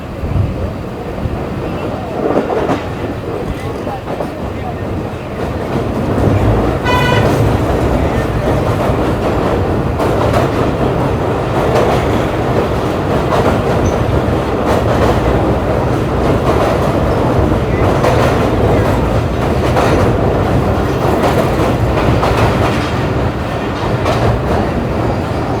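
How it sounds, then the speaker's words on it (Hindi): Karachi Express train crossing the Kotri bridge in Sindh, a loud continuous rumble and rattle of wheels and carriages heard from on board, steady throughout with a brief metallic squeal midway. "कोटरी ब्रिज से निकल गए हैं, अब अप्रोच बनाएगी ट्रेन हमारी कोटरी जंक्शन पर"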